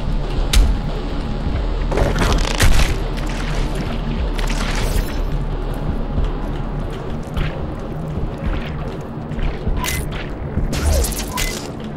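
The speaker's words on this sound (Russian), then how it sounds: "моя граната, она получается при контакте с их полем взрывается" A grenade in DOOM Eternal bursts on contact with an enemy's energy field, with booming blasts rising out of dense, continuous combat noise. Several loud bursts land within a steady roar of game action.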